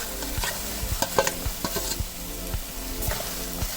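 Eggs are stirred into a sizzling egg roast masala in a pan, with repeated close spoon scrapes and taps over a constant oily fry.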